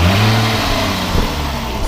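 A supercharged 2016 Jaguar F-Type with a six-speed gearbox revs briefly, a loud, close engine note that swells and then settles toward idle, with no talk over it.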